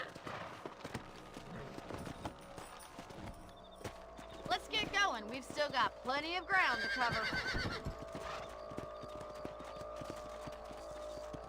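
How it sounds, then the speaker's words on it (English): Horses in Red Dead Redemption Remastered trot with rhythmic clip-clop hoofbeats, and a loud neigh and whinny rise in the middle while game characters talk over the riding. "Let's get back on the horses and see what else is going on."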